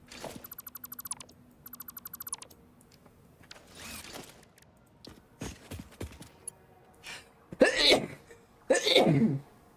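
A person sneezes twice in quick succession, two short sharp bursts near the end after some clicking and rattling sounds.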